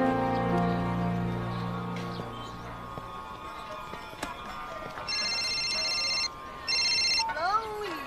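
A telephone rings with a steady electronic trill in two bursts of repeated tones, clear and fairly loud indoors after a stretch of low background hum; it sounds like a mobile handset ringtone.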